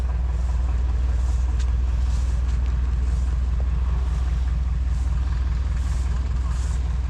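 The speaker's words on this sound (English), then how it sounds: "Here's a Caterpillar 22. Neat little crawler." A late-1920s Caterpillar 22 crawler tractor runs at a steady, loud, close idle at an outdoor show, its low engine rumble constant throughout with light wind noise over it.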